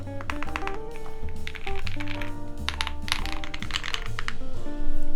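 Owlab Tiramisu mechanical keyboard being typed on, a quick run of crisp clacks and taps, close and clear, with an uneven spacebar thunking now and then amid a low background hum.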